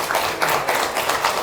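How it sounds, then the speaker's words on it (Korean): A live audience claps for a singer being welcomed at a spring concert in Mokpo, the applause dense and steady, spread across the whole stretch with no voices over it. "여러분 큰 박수로 맞아주십시오"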